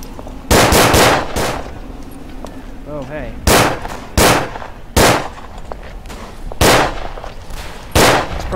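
Gunfire in the trench-warfare video game Verdun: loud, close bursts of shots repeat every second or so, with short automatic-sounding volleys over a steady background of battlefield noise.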